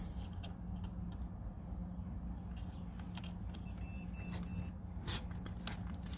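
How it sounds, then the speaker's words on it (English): A Volkswagen MK6 Jetta's aftermarket auto headlight switch gives a short, faint electronic beep on switching on, heard over a low steady hum inside the car. "you hear that beep, that means it's on"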